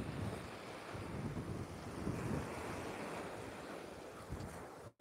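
Ocean surf washing onto Kelan beach in Bali beside Ngurah Rai airport, a steady broadband roar of breaking waves with wind buffeting the microphone, continuous and close, ending abruptly.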